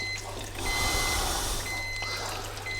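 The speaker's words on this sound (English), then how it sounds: "it's doing its business by beeping because it's too hot" A barbecue meat thermometer beeps in steady repeated tones, signalling that the cooking oil for homemade Scotch eggs is too hot, with a continuous sizzling background throughout.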